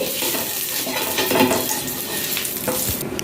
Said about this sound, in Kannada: ಈಗ ಒಂದು ತವ್ವ ತಕೊಂಡಿದ್ದೇನೆ ಫಸ್ಟ್ ಮೀನು ಫ್ರೈ ಮಾಡಲಿಕ್ಕೆ ಅಂತ ಇದಕ್ಕೆ ಎಣ್ಣೆ ಹಾಕಿಕೊಳ್ಳಿ